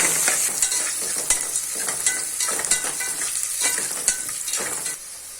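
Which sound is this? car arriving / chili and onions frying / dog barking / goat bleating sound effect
chili and onions frying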